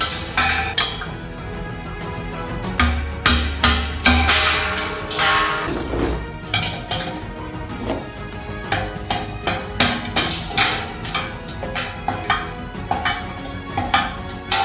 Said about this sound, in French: Tout ce qui dépasse, on le dégage avec un marteau.